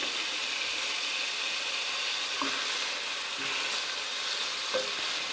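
A pot of beef stroganoff soup sizzles and hisses steadily at close range, with a few soft clinks of a utensil stirring now and then.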